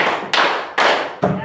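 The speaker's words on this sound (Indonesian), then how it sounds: "Tepuk 3 kali" Three loud group claps in a steady rhythm, each a sharp broadband burst that decays before the next, performed by a classroom or workshop audience.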